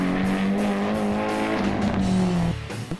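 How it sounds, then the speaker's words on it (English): Drift car at a drifting competition sliding through two corners toward the finish line, with long sustained tire squeal over a loud engine, the squeal breaking off near the end. "drifted all the way through both corners and across the finish line"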